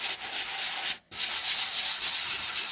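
A Dollar Tree sanding block rubs lightly over stenciled wood in a continuous dry scratchy hiss, close and steady, with one brief pause as the block lifts before the strokes resume.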